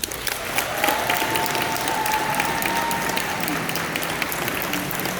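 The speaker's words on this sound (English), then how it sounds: "Another round of applause for Tina Lindres" Loud sustained audience applause following a speech by a top Saladmaster cookware dealer, a dense roar of clapping from a large crowd with a faint voice or tone murmuring underneath.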